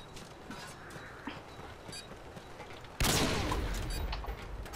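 Burst of gunfire from the video game Modern Warfare 2 during a one-on-one match, a loud sustained volley erupting about midway after quieter scattered game sounds.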